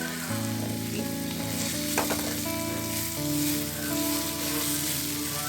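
Grated radish fries in a wok with a soft, steady sizzle under a sustained humming tone and occasional stirring scrapes, close and moderate in level with no speech.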